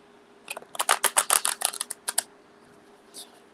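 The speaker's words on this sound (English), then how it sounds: "I need to shuffle these pretty good because they're in actual order for the walkthrough" A deck of tarot cards shuffled by hand in a quick burst of crisp riffling snaps, close and fairly loud over a faint hum, then a brief pause and one last soft flutter.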